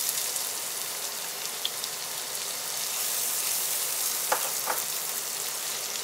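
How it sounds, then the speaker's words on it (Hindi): Chopped onions sautéing in a pan of roasted semolina for upma, a steady close sizzle with a few light clicks of stirring, no voices. "और ऑनियन को अच्छी तरह मैं सौते कर लूंगी।"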